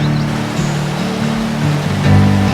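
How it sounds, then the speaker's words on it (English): Near a boardwalk and footbridge, a river rushes past with a steady, broad roar of flowing water. A low drone hums underneath and there is no talk. "the sound of rushing water in a setting like this tends to wash away all my worldly cares"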